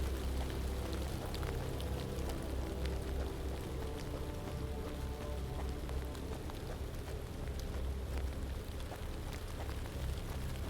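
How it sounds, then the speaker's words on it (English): Rain falls steadily in a forest in a Lovecraftian horror adventure game, an even, continuous patter and hiss of drops with no talk and no change in level throughout. "Sounds like rain in the forest."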